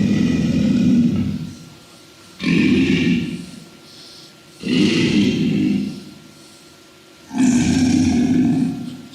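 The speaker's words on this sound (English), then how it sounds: "This is alligator, low frequency," An alligator gives deep, very low bellowing roars, four long loud growls separated by short pauses, close and unaccompanied.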